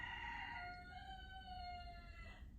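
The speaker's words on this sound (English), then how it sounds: "why does it sound like the rooster is in my sunroom?" A rooster crows once, a clear drawn-out cock-a-doodle-doo heard from nearby indoors, over a faint low background hum with no talking.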